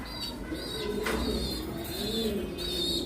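A pair of black Telmark pigeons coo in a cage, their low, rolling calls repeating steadily close by over a busy background of other birds chirping.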